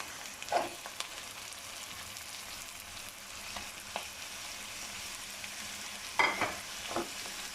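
Onions and chicken fry together in a pan for aloo gosht, with a steady, soft sizzle and a few brief stirring clinks.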